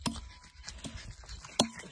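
A tired dog panting after running, with quick rhythmic breaths heard up close but quietly, plus a few small whimpering sounds.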